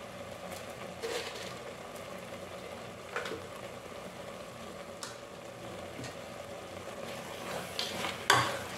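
Sambar ingredients frying in a pan, a steady soft sizzle under scattered scrapes of stirring and a few louder clinks of the spoon against the pan near the end, with nobody talking.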